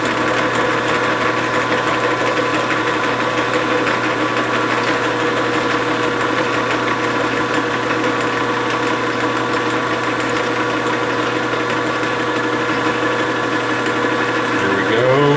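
A Grizzly G4003 metal lathe running and taking a cut, giving a steady loud mechanical hum with a constant tonal whine and even vibration that carries unchanged from start to finish.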